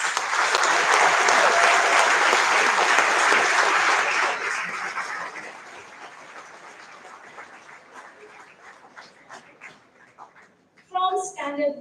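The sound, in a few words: audience applause at awards ceremony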